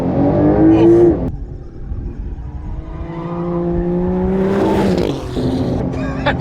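A Porsche 911 Turbo accelerates hard on a race track, its engine note climbing loud and close through the revs, with brief breaks where the gears change before the pitch rises again.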